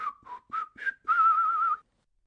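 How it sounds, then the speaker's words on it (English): A man whistles a short tune alone, four quick separate notes followed by one longer held note, fairly close and clear against silence. "He moves away whistling."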